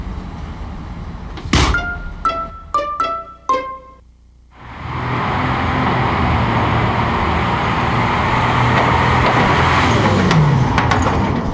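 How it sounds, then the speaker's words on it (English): A truck loaded with newly minted coins pulls away after several sharp metallic clunks and clicks, its engine then rumbling loud and steady as it drives off. "there goes another truckload of newly minted coins"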